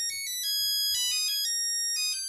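Beethoven's Für Elise plays as a mobile phone ringtone, a clear synthesized melody of bright tones heard alone, steady and moderately loud.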